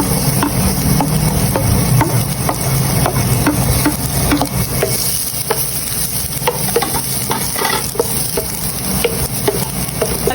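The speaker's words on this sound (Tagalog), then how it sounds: "Ako po ay magigisa na ng mga bawang, sibuyas at saka po luya." Garlic, onion and ginger sautéing for chicken curry, a steady close sizzle and frying hiss with repeated stirring scrapes running throughout, no talking.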